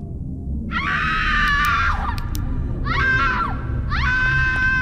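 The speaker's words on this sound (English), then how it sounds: "Thank you for screaming." A girl's scream inside an ultra-realistic horror video game, three long loud wailing bursts rising and falling over a low steady rumble.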